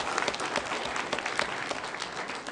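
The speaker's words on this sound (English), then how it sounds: "Round of applause for Mike." A room full of people applauds steadily at a community talk about North Battleford programs, dense continuous clapping held at an even level throughout.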